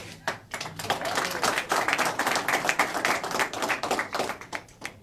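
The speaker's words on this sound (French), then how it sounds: "C'est nous qui vous applaudissons." Audience at a Euro-Toques International event in the European Parliament breaks into brisk, close applause, many hands clapping in a dense, uneven patter for about five seconds.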